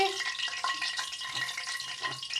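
Belyashi sizzle and crackle in hot oil, close up, a steady frying hiss with small pops throughout.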